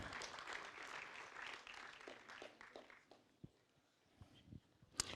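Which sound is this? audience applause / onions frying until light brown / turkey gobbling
audience applause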